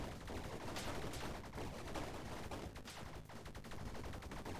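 Continuous rapid gunfire in the shooter Bleed on hard difficulty, bursts overlapping from all sides in a steady loud clatter with no pause.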